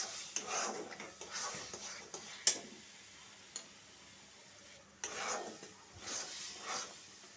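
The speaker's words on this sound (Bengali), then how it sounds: "এবার আমি আস্তে আস্তে পাক দেব নারকেলটাকে।" Grated coconut and milk are stirred in a pan over a gas flame while making white coconut naru, a spoon scraping and clinking in uneven bursts against a soft sizzle, with a quieter pause in the middle.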